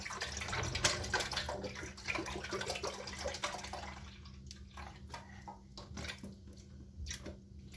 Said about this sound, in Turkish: Şimdi bu bir litrenin hepsini koyacaksın ama yavaşça koy.